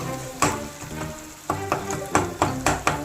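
Tamarind water is poured into a hot pan of sautéed tomatoes while making bitter gourd theeyal. It sets off a close, crackling sizzle broken by several sharp clattering bursts of stirring, with no voices.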